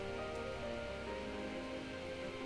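Rain falls steadily in the game Starbound, a constant dense patter on surfaces around a small hovel and fireplace, even and unbroken throughout, with no voices.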